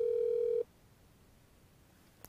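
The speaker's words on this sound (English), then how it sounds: "At this point, you'll hear the phone ringing" On a Unify desk phone during a call transfer, a single steady ringback tone sounds for about half a second and then cuts to near silence, with a faint click at the end.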